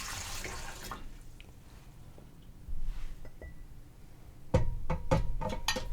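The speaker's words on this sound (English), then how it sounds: "I'm just dumping the hot water back into the canner" Hot water poured from a container back into a Nesco electric canner while canning dill pickles, a close splashing pour with clinks, no talking.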